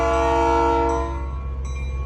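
A departing train in Old Sacramento sounds its horn in one loud, sustained blast for about a second. The horn then cuts off into a lower rolling rumble of the train.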